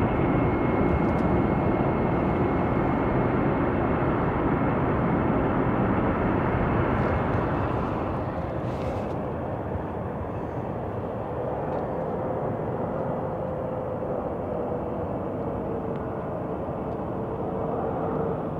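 A jet airliner taking off at night at Chicago O'Hare Airport, a loud, continuous broad engine roar that eases slightly midway and stays steady, with no talk.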